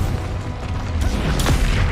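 A spell being cast in the Hogwarts Legacy video game gives a low, rumbling magical burst that rises in the second half, with a sharp whoosh near the end. No one talks.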